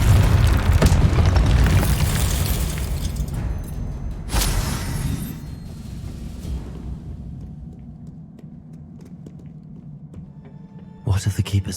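Spell explosions go off in the Hogwarts Legacy video game, with heavy booming blasts and rumbling debris that fade into a lingering low tail before a final sharp burst, loud and close.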